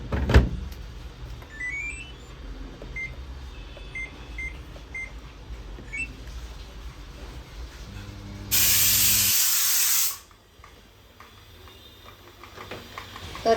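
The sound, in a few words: pressure cooker hissing steam while cooking rice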